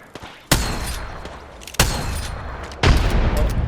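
Video game battle gunfire: three heavy, loud blasts spaced about a second apart, each followed by a sustained rumbling roar.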